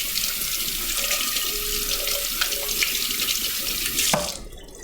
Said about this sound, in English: Alright, so let's see what we got with the jicama. I think I should probably wash this first.